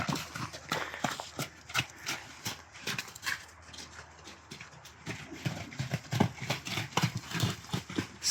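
Horses move about on soggy ground after a warm day, with a steady run of hoof clip-clops, some sharp and close, some softer, and occasional snorting sounds between steps.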